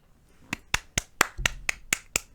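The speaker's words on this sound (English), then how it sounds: "Claps all around." About eight sharp hand claps land in a steady, quick rhythm, close and crisp against a quiet room, like a small group or single person applauding.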